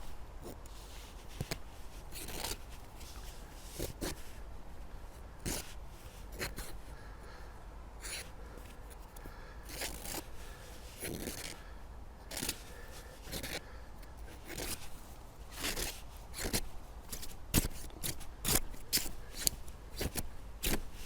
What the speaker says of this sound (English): Test cutting on an old denim shirt.